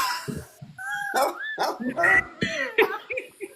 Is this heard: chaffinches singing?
no